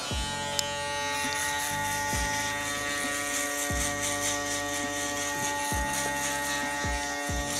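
Steady close electric shaver buzz during a barbershop mid drop fade haircut, humming continuously with periodic dips and knocks as the blade is worked over the head.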